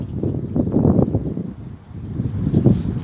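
Gusty wind buffets the microphone while a 170 cm Korat Chula kite flies outdoors: loud rushing bursts that dip briefly midway, then pick up again.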